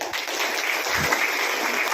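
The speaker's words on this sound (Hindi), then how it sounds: "इनके लिए भी ताली बजे।" A seminar audience in a village gathering claps for a guest, a brief, steady wash of many hands clapping together.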